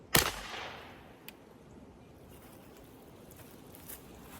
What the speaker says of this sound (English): First shot out of this can.